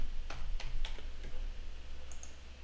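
A handful of quiet keystrokes on a computer keyboard while entering figures for a company tax return in Xero. The clicks are soft, irregular and spaced apart over a faint background hum.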